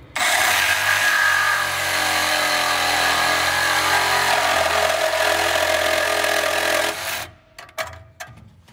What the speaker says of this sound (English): So I'm going to cut this pipe off here and here